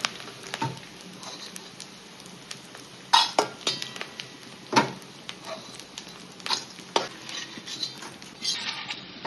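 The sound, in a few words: frying edible gum (dink) in batches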